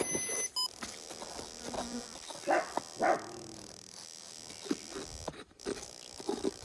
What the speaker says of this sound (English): Dogs are barking at Andre because he's back at the campsite.